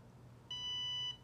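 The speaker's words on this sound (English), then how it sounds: "it'll tell you if you didn't finish correctly, it'll go make a beep or whatever" A Nira skincare laser device gives one sustained electronic beep lasting around half a second, clear and close against a quiet background hum.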